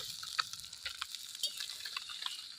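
Small puti fish fry in oil in a pan, with a soft continuous sizzle and light stirring clinks close by, no voices.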